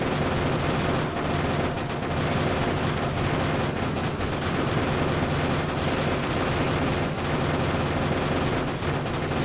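Dense, continuous gunfire from the video game Factorio rattles loudly and without pause, a busy crackle of rapid shots and bursts layered over each other.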